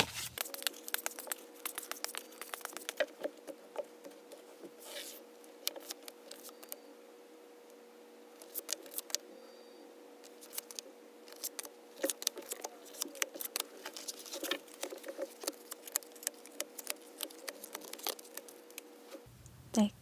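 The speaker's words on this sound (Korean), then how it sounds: "파란색 유리 뽑으신 분들의 카드부터 먼저 셔플해 보겠습니다." Tarot cards are shuffled by hand in a dense, irregular patter of soft, close clicks and flutters that lasts about twenty seconds over a faint steady hum.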